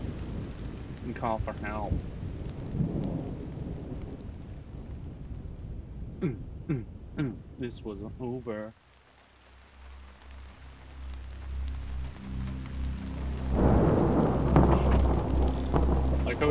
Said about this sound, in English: Thunder is really freaking loud.